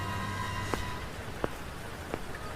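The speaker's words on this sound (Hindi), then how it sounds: "बारिश की आवाज गूंज रही थी।" Steady rain falling in a forest at night, a soft continuous hiss with a few distinct drips or taps spaced about a second apart, with a low hum beneath.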